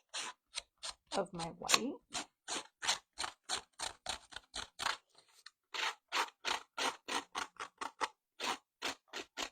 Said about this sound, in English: Looking for my scissors, I am going to distress the edge